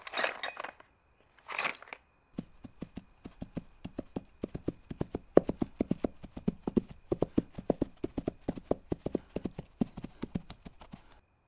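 Horse hooves clip-clop in a steady, brisk rhythm as a rider sets off, the sharp hoof strikes close and clear after two short bursts of noise at the start.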